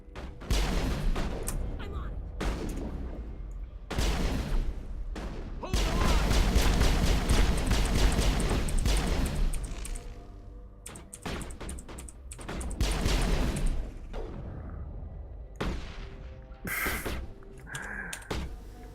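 Grenade blasts and gunfire in the game Mass Effect 1: several bursts of explosions and rapid weapon fire in bunches, separated by brief gaps, with a voice speaking now and then.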